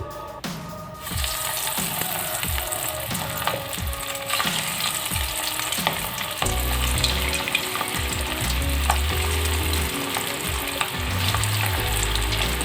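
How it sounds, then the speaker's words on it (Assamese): Fish balls frying in hot refined oil in a kerahi over a low flame give a steady, close sizzle, with soft scraping stirs early and a louder, denser crackle in the second half; no one speaks. "কম জুইত অলপ ৰঙা হোৱাকৈ ভাজি ল'ম।"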